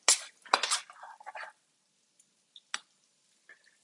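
A non-stick spoon scooping risotto into bowls, a cluster of soft clinks and scrapes at first, then a few isolated light taps against the dishes, close and quiet.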